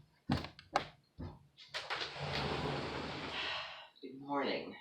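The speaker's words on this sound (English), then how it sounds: "I heard a knock on the door coming" Several sharp knocks land on a door early on, followed by thuds and a door opening, and then a long stretch of rustling movement. Someone speaks near the end.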